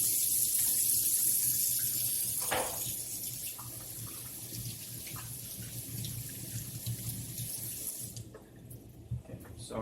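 Hands being washed under a running kitchen tap before cooking an omelet, a steady broadband rush of water splashing into a sink for about eight seconds, then cut off, leaving a few faint drips and handling sounds.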